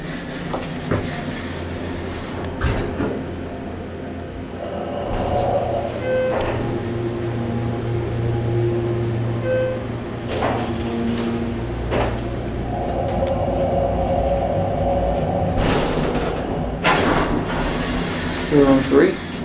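A Schindler 330A hydraulic elevator at a Holiday Inn Express hums steadily as it travels between floors, with low motor drone, a few clunks and rattles, and a faint chime, while a person talks over it.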